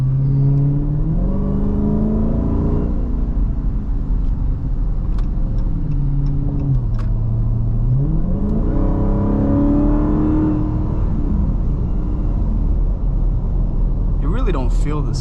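A Dodge Charger SRT Hellcat Jailbreak Widebody cruising produces a steady engine drone with a rising and falling whine, continuous rumble and road noise throughout and no clear speech.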